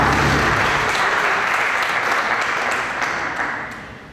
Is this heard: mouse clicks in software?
no